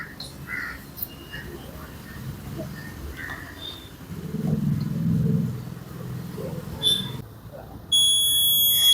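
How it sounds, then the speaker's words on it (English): Outdoor background with scattered bird calls and faint rumble, then a loud, steady high-pitched electronic buzzer on a solar-panel-powered alarm switches on near the end. "Now you can hear the noise. This is only solar alarm."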